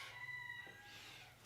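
A rooster crows once, stretching out clearly over a farmyard flock of chickens that has too many roosters for its hens. Faint clucking sits under the call.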